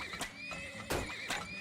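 Horses in the oil-drilling game Turmoil whinny in short, fairly quiet bursts, three high neighs spaced across a second and a half over soft hoof clatter and light game ambience.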